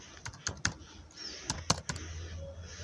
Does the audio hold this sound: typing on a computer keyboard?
yes